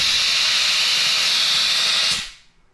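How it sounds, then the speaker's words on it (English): Compressed air hisses loudly and steadily while filling a car tire after a TPMS sensor replacement, a broad continuous rush that stops abruptly near the end, leaving near silence. "Now we've gotta fill up the tire with air."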